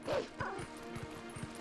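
Dogs bark and yip in the video game The Legend of Zelda: Twilight Princess HD, several quick barks in a row over a brief stretch, with a voice faintly audible alongside.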